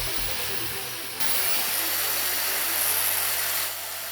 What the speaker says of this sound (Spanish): Vamos a conectar también una amoladora angular que funciona a 220 voltios